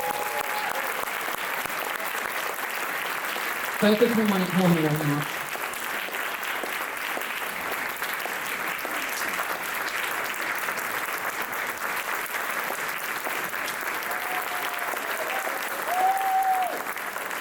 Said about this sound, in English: If we could please give a huge round of applause to Catherine Comp and our event coordinator